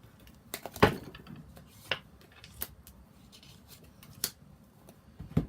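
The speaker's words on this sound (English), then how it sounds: "I'm just going to cut the cards" A deck of tarot cards is cut by hand, giving a few sparse, soft papery slaps and snaps, close and quiet, spread out with near-silence between them.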